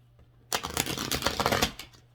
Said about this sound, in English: see if I can get a decent shuffle here